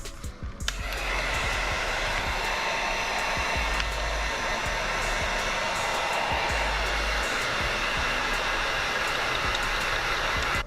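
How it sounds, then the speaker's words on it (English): A heat gun blows continuously and loudly onto 3D puff embroidery on a beanie, a steady whooshing roar with a low hum that starts abruptly and runs without a break. "Let's go ahead and do another pass of the heat gun here."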